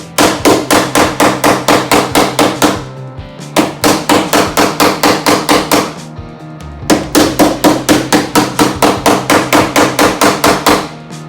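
A hammer beats repeatedly on a slap laid over dented car body metal during paintless dent repair, loud, steady, rapid blows in three long bursts separated by brief pauses.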